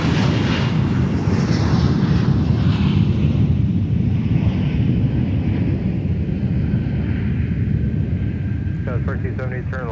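A Sun Country airliner departing MSP airport makes a heavy, rumbling jet roar that stays loud and steady, then slowly fades, with a voice talking briefly at the end.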